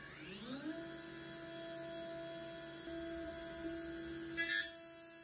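A CNC spindle fitted with a 6-flute solid carbide hard milling tool winds up to a steady high whine while cutting into a hardened machine tap, with a short, harsher burst near the end and no speech.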